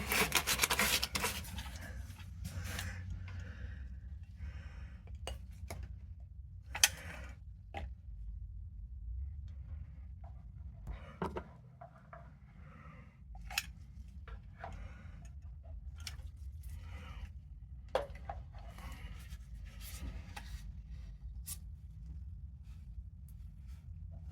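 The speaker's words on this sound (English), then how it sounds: "I got just a random grit of sandpaper, and I'm just gonna kind of scuff this up some." Sandpaper scuffs cracked factory seam sealer inside an 87 Toyota 4wd Tercel in short, irregular dry strokes, close up, with quiet gaps between bursts of rasping.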